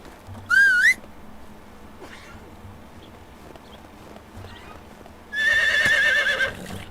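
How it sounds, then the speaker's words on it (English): A horse neighs in the video game Medieval Dynasty, two whinnies: a brief shrill call near the start, then a longer wavering neigh later, with quiet ambience and faint steps between them. "we do have a baby horse"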